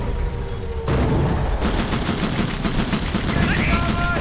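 Gunfire in Company of Heroes, a World War II battle in the city of Caen, comes as dense bursts of shots and booms, loud and continuous with small-arms crackle and heavier blasts, with voices calling out amid the fighting.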